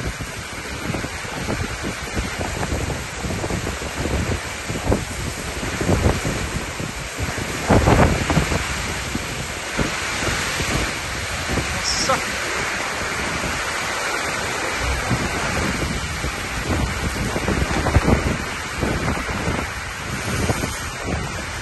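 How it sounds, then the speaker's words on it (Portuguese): Very strong wind gusts during a storm in Palhoça, Santa Catarina, a constant loud roar with repeated surges and buffeting against the microphone, without talk. "Rajada de vento fortíssima."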